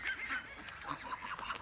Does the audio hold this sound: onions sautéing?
no